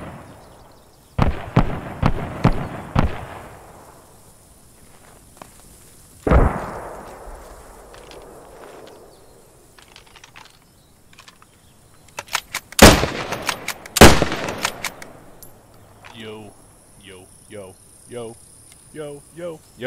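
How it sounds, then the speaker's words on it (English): Gunfire in an online multiplayer shooter game: sharp, loud cracks in scattered clusters with echoing tails, a dense volley in the middle, then a rapid string of shorter shots near the end. "We got firing off our right."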